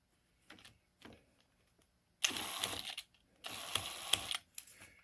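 Bosch 1/2 inch drill chuck being tightened back onto its threaded spindle: two short bursts of close mechanical ratcheting and clicking, each lasting about a second, separated by quiet pauses and a few softer taps.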